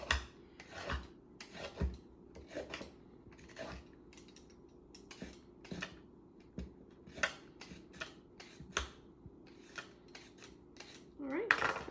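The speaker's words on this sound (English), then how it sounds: "So just peeling the skin off the carrot." Large carrots being peeled with a peeler, a steady run of short scraping rasps repeating about once a second, close and fairly quiet over light kitchen handling.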